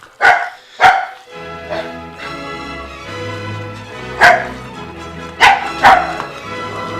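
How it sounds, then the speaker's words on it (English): Dog barking in a home kitchen during guacamole preparation: about six sharp barks, two quick ones, then scattered single barks over a low background hum, with no talk over them. "Apologies for the dog."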